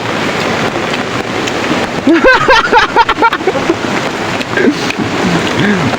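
Heavy rain hisses steadily throughout, with some wind buffeting the microphone and brief voices calling out in the middle.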